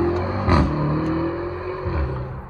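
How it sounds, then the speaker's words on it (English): Supercars revving as they pull away from the Supercar Fest track event at Mallory Park in Leicestershire: a steady, close engine drone with one sharper throttle blip early on, heard alone without talk. "We thought we'd be on time for the cars leaving."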